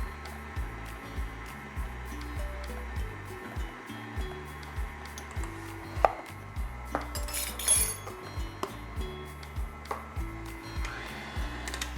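A utensil clinks and scrapes rhythmically against a bowl while lemon blueberry bread batter is mixed, with light music underneath.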